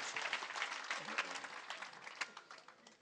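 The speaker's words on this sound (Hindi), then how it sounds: "जो सुनना चाहते हैं कृपया एक बार ताली बजाकर बताएं कि हाँ वो सुन रहे हैं।" Audience at a Hindi poetry gathering (kavi sammelan) in Bheemgarh clapping together, a dense, steady patter of many hands that holds for about three seconds with a few sharper claps standing out.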